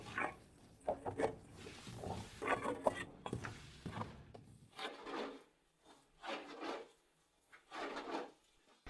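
Homemade Chechen halva of corn and wheat flour is stirred in a pot with a spatula, giving repeated rough scraping and rubbing strokes in an irregular rhythm, close and fairly quiet.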